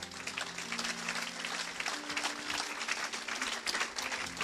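A church congregation breaks into sustained applause, dense clapping and cheering from a crowd that fills the room at steady loudness throughout, with faint voices mixed in.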